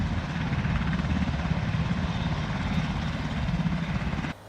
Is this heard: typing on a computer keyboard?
no